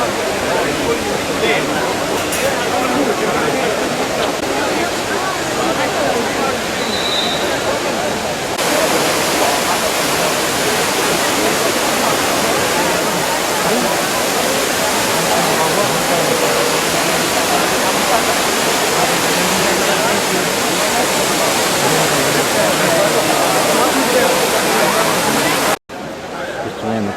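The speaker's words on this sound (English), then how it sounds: "Trevi Fountain is a really old Roman building." The Trevi Fountain in Rome sends out a steady rushing splash of falling water, dense and continuous, mixed with crowd babble from the many people around it.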